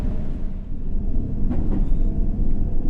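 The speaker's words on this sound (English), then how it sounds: "The next trains are coming." Subway trains arriving in the game World of Subways 3 on a District line route, a continuous loud low rumble with rolling wheel noise and brief higher squeals near the middle.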